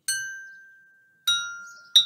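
A bottle holding only a little water is struck three times, giving bright, high-pitched ringing tones that each decay slowly, clear and close with no talking.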